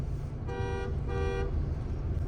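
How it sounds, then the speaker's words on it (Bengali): Two short, bright blasts from a Mahindra Thar's horn, each about half a second, sounding close alongside on a highway between Kolkata and Siliguri over steady road and engine rumble. "পাশে একটা থার এসে হর্ন মারছে।"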